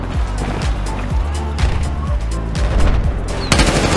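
Rapid bursts of gunfire from the Battlefield 4 video game, rattling in repeated volleys with a loud, sustained, dense battle texture.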